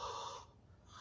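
Heavy, labored breathing from a man in a played-back recording, with a noisy inhale-exhale pattern filling the short stretch over faint background hum.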